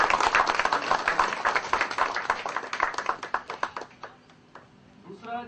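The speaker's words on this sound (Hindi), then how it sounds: "मैं चाहता हूँ कि एक बार आप सभी तालियों से उनका हार्दिक अभिनंदन करें" An audience at a Hindi-language gathering claps together in a dense burst of applause that thins into scattered claps and fades after about four seconds.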